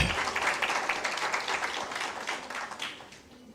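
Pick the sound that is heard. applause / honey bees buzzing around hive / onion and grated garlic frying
applause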